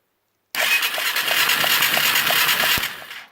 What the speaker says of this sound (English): I'll just go ahead and turn the engine over.